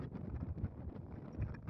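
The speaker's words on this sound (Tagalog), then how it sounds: "malamig ang simoy ng hangin" A cool sea breeze sweeps over the calm sea off Homonhon island, a close, steady rumble buffeting the microphone for a brief moment.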